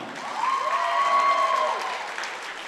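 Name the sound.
crowd applause for basketball seniors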